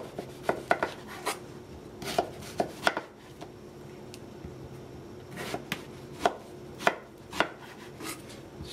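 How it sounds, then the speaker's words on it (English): A knife cuts zucchini into strips on a board, with a dozen or so crisp, irregular chops close by in a quiet kitchen. "Let's cut it in half."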